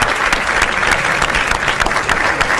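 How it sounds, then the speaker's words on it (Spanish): A studio audience breaks into steady, dense applause, loud and continuous throughout with many hands clapping at once and a faint voice underneath. "Un aplauso."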